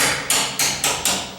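A rubber hammer taps a door being rehung, striking four sharp, evenly spaced blows, each with a crisp attack and a short ringing decay, close and loud, with no voices.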